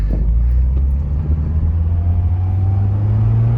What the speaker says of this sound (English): So I'll do a pull here in second gear.